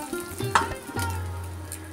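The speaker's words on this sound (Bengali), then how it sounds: "এখন এই তেলের মধ্যে দিয়ে দিচ্ছি দারচিনি, লবঙ্গ আর এলাচ। একটু ভেজে নিচ্ছি ফোড়নটা।" Cinnamon, cloves and cardamom frying in oil for a Bengali chicken and potato curry, a soft close sizzle with brief stirring clinks and scrapes of the pan.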